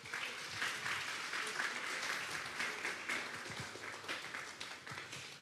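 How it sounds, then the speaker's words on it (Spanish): Loud, sustained applause from a church congregation for the Lord during a Tuesday Bible study service, dense clapping filling the whole stretch with no talk over it. "Vamos a darle un fuerte aplauso pues al Señor."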